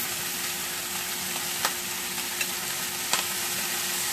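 Collard greens cooking in a hot pot, a continuous close sizzle with a few sharp pops scattered through, no talk.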